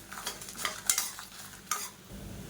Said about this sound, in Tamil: ஒரு 10 வரமிளகாய் சேர்த்துக்கலாம். இது கூடவே சேர்த்து இதையும் நல்லா வறுத்துக்கலாம்.